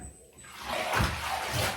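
Water sloshing in a bathtub as detergent is stirred in before washing a quilt, a soft swirling wash of sound with a couple of fuller splashes.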